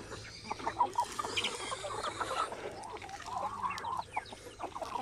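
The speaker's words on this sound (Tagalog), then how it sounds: "Yun po si yung rooster ko na isa dito." Free-range chickens, Rhode Island Reds and Black Australorps with a rooster, cluck and call in a busy, overlapping flock, fairly close, with no talking.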